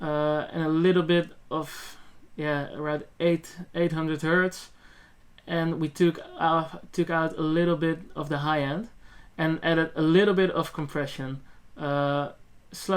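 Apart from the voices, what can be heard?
No everyday noise stands out behind the speech.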